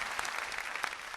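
A stand-up comedy audience claps in a steady, dense round of applause that fills the whole brief moment, with no voices heard over it.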